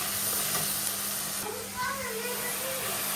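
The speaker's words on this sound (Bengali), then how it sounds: "এই সমস্ত কিছু দিয়ে ভালো করে মশলাটাকে কষাতে হবে।" Spice paste with salt, turmeric and coriander powder sizzles and hisses in a pan as it is stirred, a steady close frying sound with faint voice in the background.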